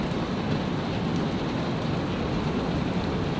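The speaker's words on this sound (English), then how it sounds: "Raining so heavy right now." Heavy rain pours during a severe thunderstorm, a dense, even hiss that stays steady throughout with no thunder claps or voices standing out.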